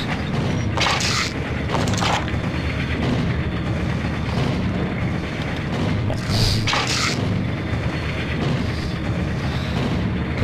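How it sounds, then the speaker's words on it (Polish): A grenade goes off in a video game: a loud, heavy boom with sharp bursts near the start and again past the middle, over a constant dense rumble of combat noise. "Granat!"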